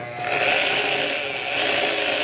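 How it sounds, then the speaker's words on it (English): A loud, steady power tool whines and grinds continuously at close range on a Lian Li PC-A75 full tower PC case, with a harsh buzzing edge and no speech. "It's always fun when the power tools come out."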